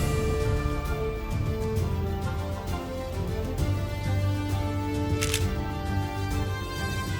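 Camera shutter click from a selfie snapped in the Fortnite video game, a single sharp click standing out over a steady droning game soundscape with music.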